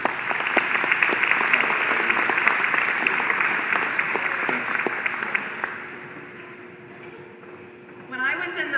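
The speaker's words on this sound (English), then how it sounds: "Why don't we give her a little applause too?" Sustained audience applause at a public narrative talk: dense, steady clapping from a sizable crowd that gradually thins and fades toward the end, with a brief swell near the close.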